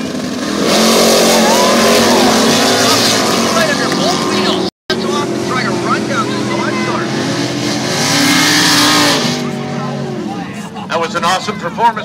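Ford Falcon sedan delivery drag racing down a quarter-mile strip, a loud engine roar that revs and climbs through gears, briefly cut out, then fades as other engines rumble and an announcer talks over it.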